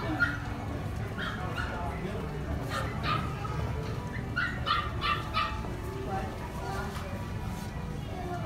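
Several puppies whimper and yip in short, high bursts scattered through the scene, close by and fairly soft, with people talking quietly in the background.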